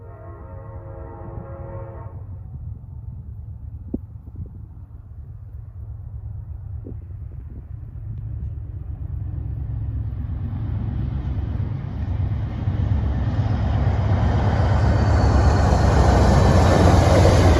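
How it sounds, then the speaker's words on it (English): Amtrak train 59, the City of New Orleans, starts with a brief horn blast, then its rumble swells steadily from a low distant roll to a loud, close roar as the train approaches and passes. "Amtrak, train 59, the city of New Orleans."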